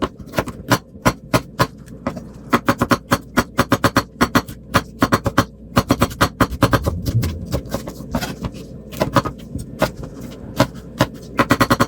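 Rapid knife strokes chopping cucumbers into small pieces on a board, sharp close taps in quick bursts with short pauses, over a low steady hum.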